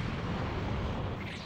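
Special Beam Cannon attack from the Dragon Ball Sparking Zero video game: a loud, sustained roaring blast with a dense rumble that holds steady for the whole moment and fades slightly near the end.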